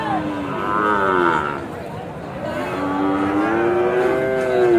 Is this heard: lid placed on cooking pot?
no